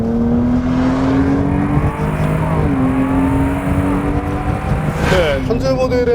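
A supercharged 3.0-litre V6 Jaguar XE S sedan accelerates hard in Dynamic mode with the gearbox in S, the engine note climbing through rising revs with two distinct upshifts, loud and close from inside the cabin.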